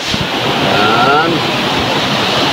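Rizal Falls waterfall gives a dense, steady rushing roar that fills the whole clip at close range, with a brief faint whistle-like tone passing over it.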